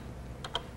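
Two quick, light keystrokes tap on a Color Computer keyboard, close and faint against a quiet background.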